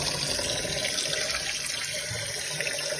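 Water runs steadily from a sink faucet during drain work, a constant hissing splash with no pauses and no voices.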